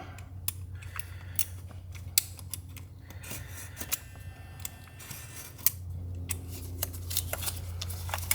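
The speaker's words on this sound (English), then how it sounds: "very carefully cut this heat shrink off of this connector" Heat shrink being cut off a wiring connector on a Mercedes-Benz GLA, close-up: soft snipping and scraping clicks scattered over a low steady hum, with no talking.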